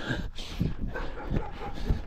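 Dogs bark and yip in short, repeated bursts across cross-country fields, heard over steady outdoor noise and footsteps, fairly close.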